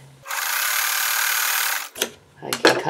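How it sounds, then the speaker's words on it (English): A sewing machine stitches fabric pieces together in one continuous, close, even whirring run lasting under two seconds, then stops, followed by a few brief clicks and handling sounds. "I'm going to sew here on this side"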